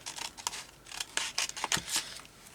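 Scissors snipping through paper for a budget journaling page, giving a quick run of close, crisp cuts at an uneven rhythm with no voices.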